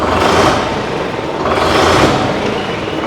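A tractor's naturally aspirated diesel engine revs up from idle, rising and falling twice in a loud, continuous roar recorded close by.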